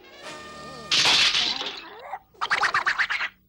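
A cartoon egg cracks open as it hatches: a sharp crackling break, a short settling, then a quick run of brittle cracks, loud and close with no talk.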